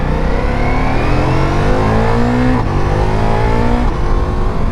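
A 2023 Ducati Multistrada V4 S motorcycle engine rumbles loudly and continuously nearby, its pitch rising and falling through revs as the bike pulls away.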